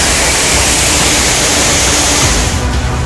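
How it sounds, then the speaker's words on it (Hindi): Floodwater rushing through a residential area of Pune during the 2024 monsoon, a loud, unbroken roar of churning water that fills the whole scene. "ये शोर, ये पानी की रफ्तार, ये कोई पहाड़ी इलाका नहीं बल्कि पुणे में ही रिहायशी बस्ती"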